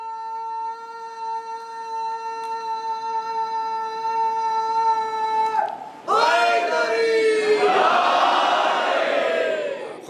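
At a Muharram majlis in an imambargah, one voice holds a long, drawn-out chanted call. The large gathered crowd then answers with a loud, rousing collective shout of Ya Ali.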